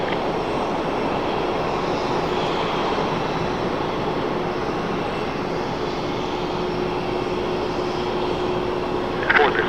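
Continuous roar of a jet airplane engine at Raleigh-Durham International Airport, steady and fairly loud, holding an even level from start to finish.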